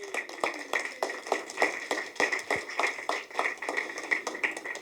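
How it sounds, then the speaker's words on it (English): Audience applause at the close of the JQS Rocks 2026 event, a steady round of many hands clapping with sharp individual claps standing out, sustained and moderately loud across the whole stretch. "Please give them another round of applause."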